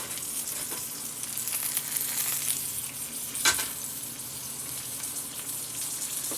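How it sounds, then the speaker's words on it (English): Frozen tortillas sizzle and crackle steadily in hot shortening in a pan close by, with one brief louder hiss partway through. "I think I'm frying them and shortening"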